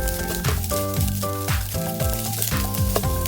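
Corn and tomato are added to vegetables frying in a pan, giving a steady close sizzle that runs beneath clear, tuneful background music.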